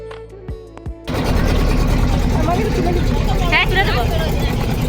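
A motorboat engine on the Ganges at Uddharanpur rumbles steadily after a quiet start as the boat sets off, with people talking over the continuous low drone.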